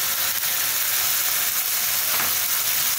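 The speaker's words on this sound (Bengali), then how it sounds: "দিয়ে এটা এখন ভালো করে একটু নাড়াচাড়া করবো।" Spices fry with turmeric, chilli and cumin powder for an egg onion curry, a loud, dense continuous sizzle filling the whole stretch, with faint stirring and no voices.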